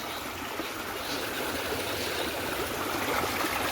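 Water from a running pump motor gushes and splashes in a steady, loud, close rush that carries through without a break, with no voices over it.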